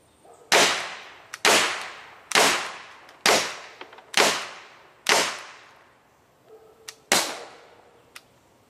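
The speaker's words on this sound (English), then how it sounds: "Now we're going to just shoot some styrofoam." A TR50 .50 caliber CO2 revolver fires seven loud, close shots at styrofoam, each a sharp crack with a quickly fading tail, spaced roughly a second apart with one longer pause before the last.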